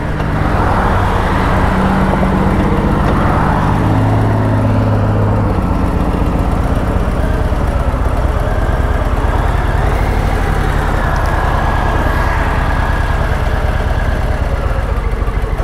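Steady road noise from inside a moving car, a constant engine drone and tire rumble with passing traffic, loud and unbroken, no speech.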